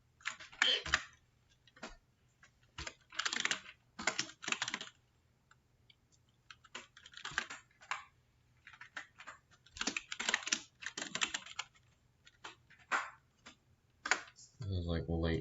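Computer keyboard typed on hard during late-night coding, uneven bursts of loud clattering keystrokes with pauses between them, close up, with speech mixed in.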